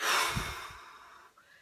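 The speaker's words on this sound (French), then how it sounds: "Inspirez par le nez. Bloquez la respiration. Contractez tous les muscles du corps. Et soufflez fortement." A strong, forceful exhale bursts out after a held breath during a breathing exercise, a loud airy rush that tapers off over about a second, with a fainter breath at the end.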